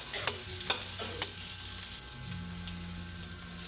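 Onion hits a hot pan while cooking menudo, setting off a steady, moderate sizzle with a few sharp clicks and taps at the start.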